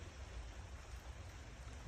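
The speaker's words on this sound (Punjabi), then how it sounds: "ਫਿਰ ਪੈ ਰਿਹਾ ਮੀਂਹ" Steady rain hisses evenly throughout, a constant wash of falling drops with no voices.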